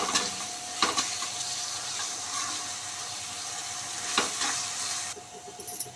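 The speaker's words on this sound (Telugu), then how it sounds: "పచ్చివాసన పోయే వరకు ఫ్రై చేసుకోవాలి" Masala paste frying in oil for a cauliflower curry gives a steady close sizzle and crackle, with a couple of sharp spoon scrapes and clinks against the pan, no talking.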